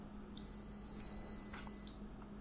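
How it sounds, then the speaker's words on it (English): A single long, steady electronic beep lasting about a second and a half from a cheap fingerprint biometric smart padlock as it erases all stored fingerprints, thin and high-pitched, close by with no talk. "And there we get our really long beep,"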